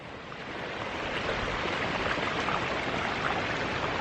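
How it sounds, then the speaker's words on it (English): Water rushes steadily down small mountain streams into a main river among granite cliffs in Montana, a dense, continuous broadband roar with no talk. "water flowing down from all these little streams into the main river back there"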